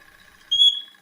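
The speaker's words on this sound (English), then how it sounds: "Whistle test, whistle test." A short, high-pitched steam engine whistle sounds once, a brief bright tone that fades quickly after a faint quiet hum.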